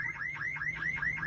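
A car alarm in the mobile battle royale game PUBG Mobile wails in a fast, steady rising siren cycle, repeating several times, moderately loud and alone without talk.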